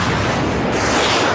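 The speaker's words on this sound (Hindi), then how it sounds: "एक घंटे के भीतर 65 रॉकेट धमाके।" Rocket explosions from a Hezbollah barrage striking Kiryat Shmona in northern Israel form a loud, dense, continuous roar of blasts and rumble that merge into one steady wall of noise.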